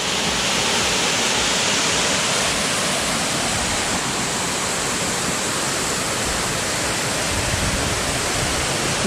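Hogarth Falls near Strahan sends up a constant, dense rush of falling water, a steady broadband roar heard up close with no voices and no letup.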